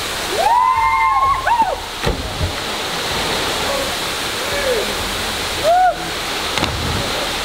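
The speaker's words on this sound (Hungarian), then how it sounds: "ez itt a Los Cocos vízesés" Constant loud roar of rushing water at the Los Cocos waterfall fills the scene, while a nearby voice talks over it and short whistle-like tones break through twice.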